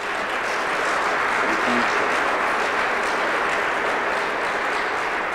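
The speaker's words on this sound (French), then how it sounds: "alors on applaudit" A crowd at an International Day of the Francophonie event applauds in a dense, sustained wash of clapping that stays loud and even throughout.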